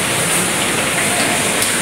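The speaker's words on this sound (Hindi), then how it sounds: "पीछे बंद किया है पर बारिश की बहुत तेज़ आवाज़ आ रही है" Heavy stormy rain falls steadily outside at night, a dense, continuous hiss and patter close by with no pauses and no voices over it.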